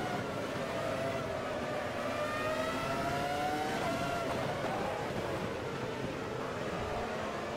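Takuma Sato's race car in the racing game Automobilista at the 2002 Australian GP: a steady engine drone with rising and falling rev tones, including a shift around the middle, continuous and moderately loud.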